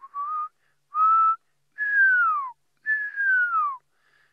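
Pearl-spotted owl giving its whistling call: four clear, rising-then-falling whistled notes spaced about a second apart, close and alone against silence.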